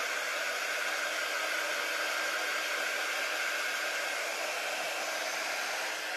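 Hair dryer blowing steadily and loudly throughout while drying paint on a lantern sign, a continuous broadband whoosh with no talking.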